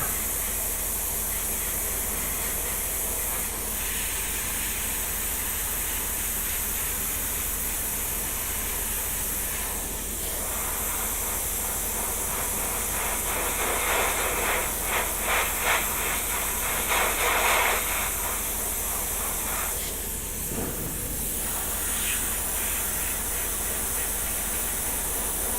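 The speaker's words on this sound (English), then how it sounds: "I'm hardly pulling back on the airbrush as well because I don't want it too dark and intense." An airbrush sprays light paint onto the hull of a Star Trek Voyager model, giving a continuous, even hiss that runs close and steady for the whole stretch with no talking.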